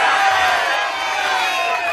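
A large arena audience at the 2017 World's Strongest Man heat roars and cheers in a loud, sustained wall of voices that barely dips.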